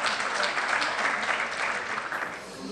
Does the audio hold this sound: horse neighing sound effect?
no